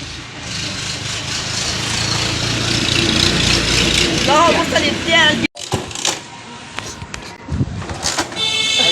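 A new motorcycle's small engine revs loudly and steadily close by, with a voice talking over it, then cuts out briefly before sputtering and running unevenly again.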